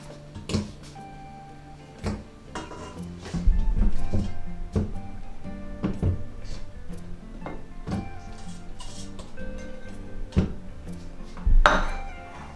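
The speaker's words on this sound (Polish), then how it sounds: "Wrzucamy nasz kawałek wędzonki, warzywka" Smoked meat and vegetables dropping into a cooking pot while making Easter żurek soup: a series of clear knocks and clunks against the pot, with a few louder thuds near the middle and end, no talk.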